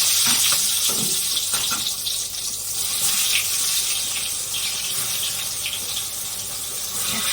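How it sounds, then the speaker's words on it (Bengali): Eggplant pieces hiss and sizzle in hot oil in a home kitchen, a loud, continuous, steady frying crackle close up with no talk. "তেলটা গরম হয়েছে বেগুনগুলি দিয়ে দেবো"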